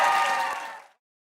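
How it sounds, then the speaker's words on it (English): Studio audience on a late-night talk show bursting into applause and cheering, a dense wash of clapping that fades out within a second. "the crowd's going to cheer like crazy"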